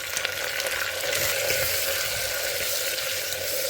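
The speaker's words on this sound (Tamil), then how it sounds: "கடுகு பொரிஞ்ச கையோடு நான் கேப்சிகத்தை ஆட் பண்ணிட்டு கொஞ்சம் கேப்சிகம் வதங்கினதுக்கப்புறமா இதை நல்லா இப்படி நம்ம பரட்டி விட்டுக்கலாம்" Capsicum sautéing in a pan right after mustard seeds have popped, for sambar, giving a steady, close crackling sizzle that runs evenly throughout with no talking.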